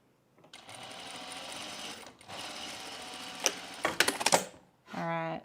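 A sewing machine stitches four fabric layers of a Loftus bralette in long steady runs with a short pause between them, then a clattering burst and a quick final whir, all loud and close.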